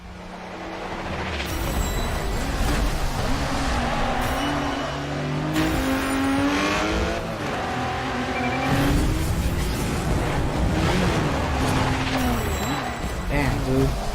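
Race cars in Forza Street, a racing video game, roar with steady, loud engine revving and rising gear-shift whines, with occasional tire squeals throughout.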